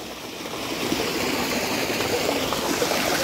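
Continuous rushing gurgle of water flowing steadily through an irrigation channel in a date palm orchard, close by and fairly loud, with no pauses.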